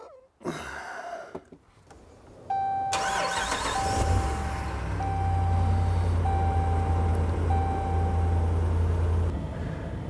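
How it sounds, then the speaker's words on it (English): Dodge Ram 1500 pickup with a Hemi engine cranks and starts after a door clunk, then settles into a loud, steady idle rumble close by, with a regular chime beeping above it. "let's get the Ram going. Big Hemi Dodge."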